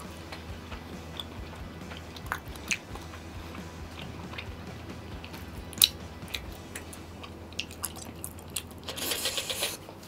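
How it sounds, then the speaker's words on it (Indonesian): Crunchy chewing of extremely spicy peanuts, close to the mouth, with irregular soft bites and crackles over about ten seconds and a denser burst of crunching near the end. "Gua kunyah sampai halus."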